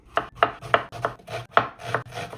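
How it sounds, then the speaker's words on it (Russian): A knife slices a red onion into half rings on a cutting board, making about seven crisp, evenly spaced chops up close with no voices. "Сейчас нарезаем красный лук полукольцами"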